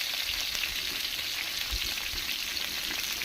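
Potatoes and pointed gourd fry in oil with salt and turmeric, giving a steady, dense sizzle that holds evenly throughout, close and fairly loud with no voices.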